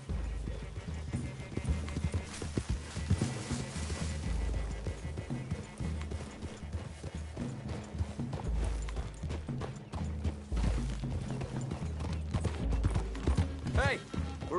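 Horses' hooves clip-clop steadily at a walk through woodland in Red Dead Redemption 2, a Western video game, with a brief whinny, under a faint ambient background of the trail.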